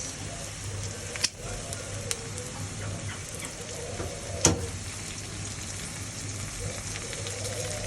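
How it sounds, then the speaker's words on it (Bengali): Onions frying in oil with bombai chilies added, a steady close sizzle with a couple of sharp clicks and stirring knocks, fairly quiet and without talking. "পেঁয়াজটা ভাজা ভাজা হয়ে গেছে এবার দেব বোম্বাই মরিচ"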